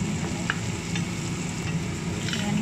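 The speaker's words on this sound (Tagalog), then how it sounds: "Haluin lang natin para lumabas yung aroma niya sa mantika niya." Spaghetti ingredients stirred in hot oil in a home kitchen, giving a steady close sizzle and frying crackle with a few light scrapes of the spoon throughout.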